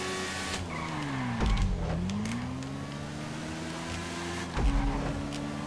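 A Nagasaki Shotaro motorbike in GTA 5 Online runs with a steady electronic-sounding engine whine that dips and rises in pitch as it slows and speeds up, with brief thumps and bursts of revving.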